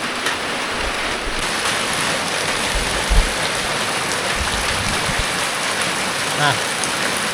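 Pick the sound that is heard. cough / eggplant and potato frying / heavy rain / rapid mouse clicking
heavy rain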